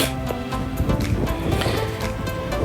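Strong, cold winter wind roars continuously outdoors at Mt. Haruna, Japan, a dense rushing blow with gusty texture and no voices.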